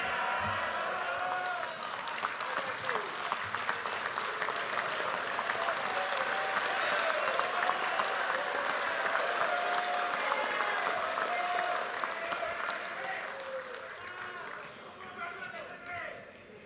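A large audience at a political party assembly applauds loudly and continuously, the dense clapping swelling and holding for over ten seconds before gradually thinning and fading toward the end.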